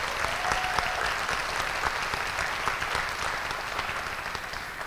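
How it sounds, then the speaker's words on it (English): A school spelling bee audience applauds the young contestants, a sustained, even round of clapping from a large crowd filling the hall throughout. "let's give them a round of applause for being here"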